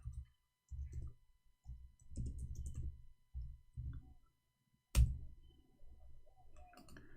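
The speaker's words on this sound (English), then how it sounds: "Oh, we're typing in English." Keys clack in short irregular bursts of typing, close and soft, separated by brief pauses, with one sharper tap partway through.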